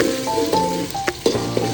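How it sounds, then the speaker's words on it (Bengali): Onions, garam masala spices and tomatoes fry in hot oil while being stirred, giving steady close sizzling with scraping stir strokes and a few sharper clinks, no talking. "পেঁয়াজগুলো দিয়ে দিচ্ছি, গরম মশলাগুলো দিয়ে দিচ্ছি, টমেটোগুলো দিয়ে দিলাম, ভালো করে নেড়ে দিব।"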